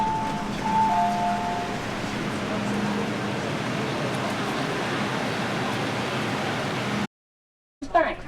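Hong Kong train running, a steady broadband rumble and rush that holds for about seven seconds, then cuts to near silence before a brief burst of noise returns at the end.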